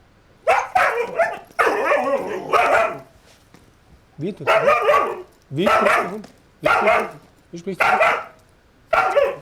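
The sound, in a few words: dog barking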